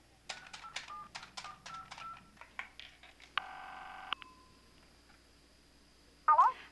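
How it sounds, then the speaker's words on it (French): Telephone keypad tones beep in a quick series of short dialing presses, followed by a sustained buzzing tone and a brief ring, close and clear in a quiet room. "Je téléphone Ludy."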